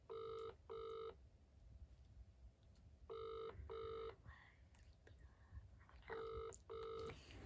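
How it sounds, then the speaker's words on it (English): An outgoing phone call rings out, three pairs of double ring tones spaced evenly about three seconds apart, heard through a handset with faint background noise between rings. "I'll call someone that I know will always pick up."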